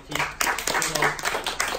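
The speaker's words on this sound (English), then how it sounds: "I want an applause for her bravery." Brief burst of audience applause at a live growth-mindset training masterclass, moderately loud scattered clapping mixed with a voice talking over it.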